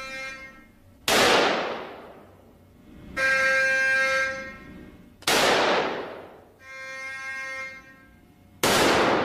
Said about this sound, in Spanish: El material recibe 3 disparos.